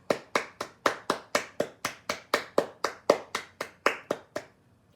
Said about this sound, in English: The applause, let me give the applause.